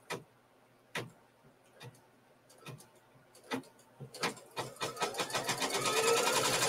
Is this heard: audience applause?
no